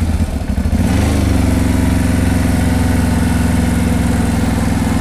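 A CFMOTO X8 H.O. EPS ATV engine runs steadily while being ridden, with a loud, continuous low throbbing drone and a brief uneven pulse at the start before settling into an even rumble.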